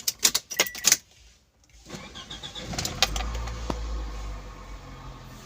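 Toyota Noah, Voxy or Alphard engine cranking and firing up, with a few light clicks and key jangles first, then a short pause before the engine catches and settles into a steady, close idle rumble.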